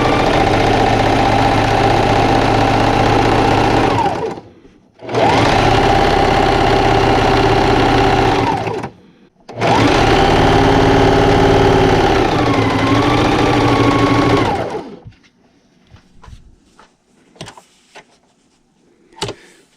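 A sewing machine runs in three long, steady bursts, stitching fabric up close with brief pauses between runs, then falls quiet while soft handling clicks and taps follow.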